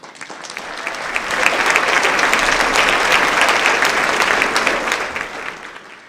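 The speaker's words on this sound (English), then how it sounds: "Let's give them another round of applause." A crowd applauds at a staff award ceremony honouring support staff, clapping swelling in and holding steady as a dense, sustained round before fading.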